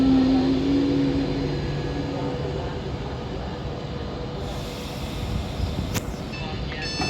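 Avanti West Coast Class 390 Pendolino electric train at Milton Keynes Central on the West Coast Main Line, a steady broadband rumble and rush of the passing train, loud and close, with a brief high squeal near the end.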